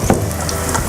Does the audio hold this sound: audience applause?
no